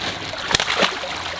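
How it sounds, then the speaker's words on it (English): A koi fish is lifted out of a pond with a couple of quick sharp splashes and some sloshing of water, close by and brief. "I'm actually gonna lift this koi completely out of the water."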